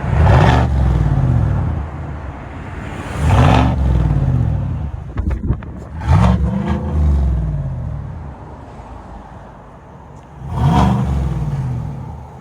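Revving 2022 Chevy Silverado LT with a 5.3L V8 and Borla ATAK exhaust, four loud throttle blips at roughly even intervals, each rising to a deep roar before dropping back to a rumbling idle, heard close with no talking.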